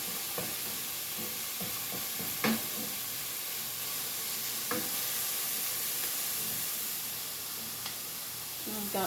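Carrots and onions with small tomato chunks sizzle steadily in a pan over medium heat, broken by occasional scraping clicks and taps from stirring throughout.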